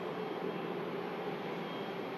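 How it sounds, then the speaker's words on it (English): A TUI Boeing Dreamliner jet running its engines in the engine run-up bay at Manchester Airport, a steady distant roar with a broad, even rush and no talk. "Sound you guys can hear is a TUI Dreamliner in the engine run-up bay."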